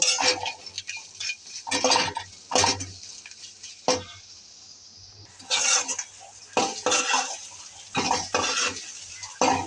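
Onion and garlic frying with chillies in a pan for a small-fish shutki bharta, heard as clattering spoon-and-pan scrapes in short bursts over a low background sizzle, close and moderately loud, with no talking.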